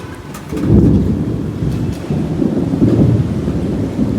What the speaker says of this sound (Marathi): जोर जोरात विजा पण कडकायला लागलाय